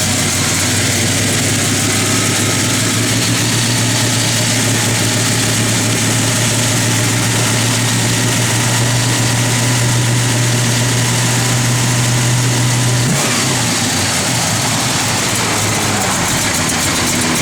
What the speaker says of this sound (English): There's a nice little rumble of this motor.